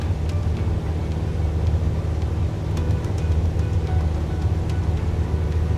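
Airliner engines at full throttle during a takeoff roll in Microsoft Flight Simulator, a loud steady low roar and rumble that holds evenly throughout.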